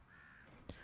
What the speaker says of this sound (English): I could hear the sound of birds chirping on the power lines